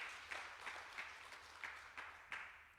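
Audience applause at a religious gathering, a soft continuous patter of many hands with slightly louder swells recurring about every third of a second, moderately distant and steady throughout.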